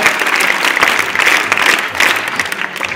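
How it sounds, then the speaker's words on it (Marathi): An audience at a school sports day claps steadily and briskly for a few seconds, a dense, loud wash of many hands with no voices above it. "आपण दोन जोरदार टाळ्या वाजवल्या पाहिजे"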